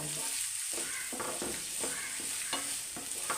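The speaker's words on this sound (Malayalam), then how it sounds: "തക്കാളി ഇട്ട് നല്ലതൊന്ന് വയണ്ട് വരണം" Tomatoes fry in a pan for egg thoran under a steady, quiet sizzle, with repeated scraping strokes as they are stirred.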